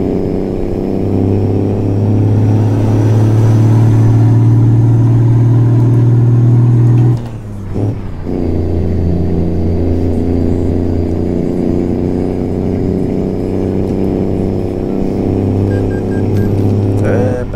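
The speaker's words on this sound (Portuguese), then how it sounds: "Esse freio motor, amigão, você tá duro." International 9300 Eagle truck engine in American Truck Simulator, a steady loud low drone with a brief cutoff and sputter around the middle before the engine note resumes, engine brake rumble throughout.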